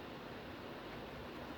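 The cooling fan of a Lenovo IdeaPad L3-15IML laptop with an i5-10210U runs under load as a faint, steady airy hiss with a low hum beneath it, unchanging throughout.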